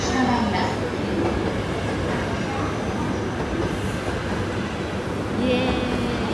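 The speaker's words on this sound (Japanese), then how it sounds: "電車の到着です。" A Shinkansen bullet train pulls into a station platform in Akita Prefecture, Japan, with a steady loud rumble of wheels and rail noise, brief faint squeals, and a softer platform ambience throughout.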